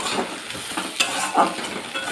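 Red amaranth greens with poppy seeds being stirred and fried in a pan, a steady close sizzle broken by scraping stir strokes and a few clinks of the spoon.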